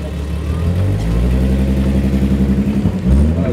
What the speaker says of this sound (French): Voilà, ça fait un peu de bruit un VR6.